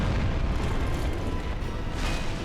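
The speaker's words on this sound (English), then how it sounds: "He's got magic explosions that he can do both near and far." Asylum Demon's magic explosions in Dark Souls Remastered, a loud, close, rumbling boom that fills the whole clip, with a fresh burst swelling near the end.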